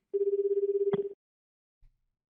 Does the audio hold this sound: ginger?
no